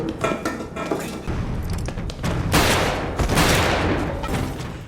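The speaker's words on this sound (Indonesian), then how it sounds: "Baku tembak, hingga ledakan dan kebakaran hebat" Gunfire erupts in a chaotic film action scene, a dense fusillade of shots and crashes with explosions and debris, loud and continuous throughout with no pauses.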